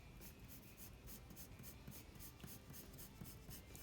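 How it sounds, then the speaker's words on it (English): Graphite pencil shading back and forth across paper, a soft scratchy rubbing in quick repeated strokes, close and quiet with no voices. "You can use the point of the pencil, and when I shade, I can use the lines"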